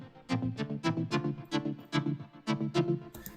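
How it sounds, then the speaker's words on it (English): A second synth lead group, a slightly different preset run through ShaperBox, pulses in rhythmic, pumping chord stabs that rise and fall in volume, playing alone and up front. "that's a slightly different preset with shaper box on it"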